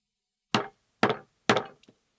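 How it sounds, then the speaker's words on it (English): A hammer drives a chisel to tap a shallow mark into timber in medieval-style woodworking. Three sharp, close wooden knocks come at an even pace, the last followed by two faint light taps, with silence between them. "He chisels a shallow X into each piece."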